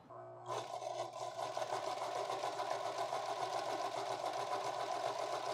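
A sewing machine stitches a thin zigzag buttonhole, starting abruptly and then running as a steady, close, fast mechanical whir with no talking.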